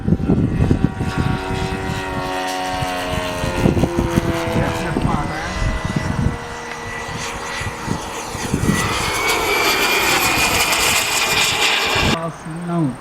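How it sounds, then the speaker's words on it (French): A loud model jet aircraft engine, original to a 50-metre-class scale jet, roars and whines, rising in pitch toward the end, with voices and bursts of wind noise mixed in. "L'avion de 50 mètres avec son moteur d'origine."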